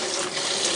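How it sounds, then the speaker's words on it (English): Cold tap water running steadily into a sink to rinse strained noodles for a spicy watermelon Korean cold noodle dish, a dense close splashing rush with no voices. "Rinse them in cold water because this is a cold noodle recipe."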